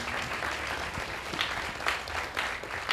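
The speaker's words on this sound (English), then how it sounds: "Big round of applause, ladies and gentlemen." Audience applause at a sales masterclass workshop, a steady wash of many hands clapping at moderate distance, holding even for about three seconds with slight swells and no voices.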